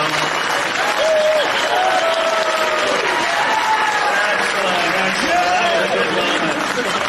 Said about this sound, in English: I want to get this applause here on record